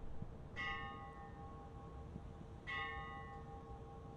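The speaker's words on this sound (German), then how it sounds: "Da hören wir schon das Glockenspiel" Church bells from the video game Bus Simulator chime in two separate bursts, each a bright ringing strike that fades slowly, heard from a moderate distance over a low, steady rumble of ambient game noise.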